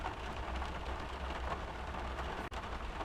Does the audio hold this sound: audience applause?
no